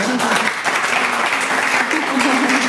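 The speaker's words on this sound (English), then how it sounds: "maybe we give everybody one last wonderful round of applause" Dense, sustained round of audience applause closing a diversity and inclusion event, loud and continuous throughout, with some voices mixed in.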